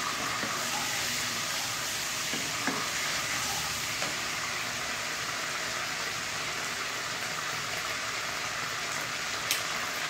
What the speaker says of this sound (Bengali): দুটো শুকনো লঙ্কা দিয়ে একটু ভেজে নিতে হবে।